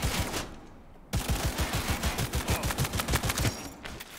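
Rapid bursts of gunfire in Cyberpunk 2077 as headshots land one after another: a dense, rhythmic string of sharp shots after a brief gap, loud and close, with no talking.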